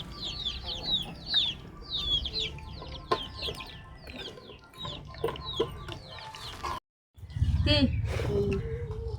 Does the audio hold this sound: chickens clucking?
yes